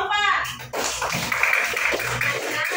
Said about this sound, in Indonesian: Berikan tepuk tangan dulu buat kelompok 4.